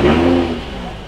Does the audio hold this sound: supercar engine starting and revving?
yes